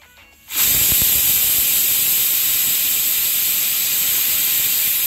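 A kitchen pressure cooker on the stove suddenly releases a loud, sustained burst of hissing steam with a high whistling edge that continues for several seconds.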